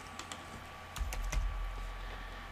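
Keystrokes on a computer keyboard while setting up a SAG software project, a few sparse clicks early on, then a short quicker burst of typing over a steady low hum.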